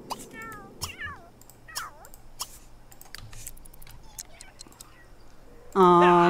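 Several short, bright cat meows come from a house cat in The Sims 3, spread among faint clicks and soft game sounds. A loud burst of game music or an effect arrives at the end.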